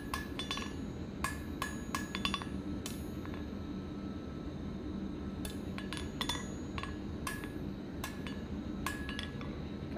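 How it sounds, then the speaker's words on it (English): Steel is hammered on an anvil while a fire poker is forged, giving sharp ringing blows in irregular bursts over a steady background hum; no one speaks. "it may look like I'm randomly hammering, but believe it or not, I'm thinking about every hammer blow"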